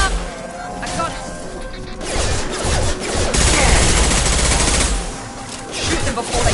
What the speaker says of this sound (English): Shoot them before they take out the shield.